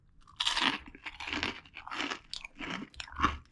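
Crunchy popcorn chicken being bitten and chewed close up, a series of about five loud crisp crunching bursts with short pauses between, no talking.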